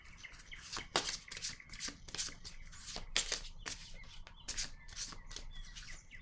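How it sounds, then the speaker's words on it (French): Cards handled and laid down during a French-spoken card reading, a string of crisp, short shuffling and slapping sounds at close range, repeating irregularly every half second or so with no talk. "Attendez une minute, je vais déposer une autre carte."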